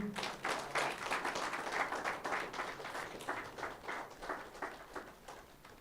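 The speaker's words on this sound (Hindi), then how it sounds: "तालियां बजाइए।" An audience at a stress-relief session claps in a lively, uneven burst of many hands, loud at first and slowly thinning into scattered individual claps.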